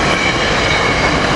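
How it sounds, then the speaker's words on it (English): A SEPTA Silverliner IV commuter train, a short express, pulls into Cornwells Heights station, a loud, steady close rumble of wheels and cars with no voices over it. "So this is an express from West Trenton to Trenton coming in to Cornwells Heights here."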